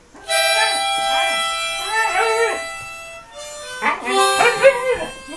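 A Siberian husky howls and whimpers indoors in long, wavering, loud notes, with a person's voice joining in close by.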